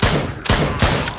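Gunfire in the VR game Drop Dead: Dual Strike: three sharp, loud shots in quick succession, each a sudden blast with a short booming tail, heard close and alone.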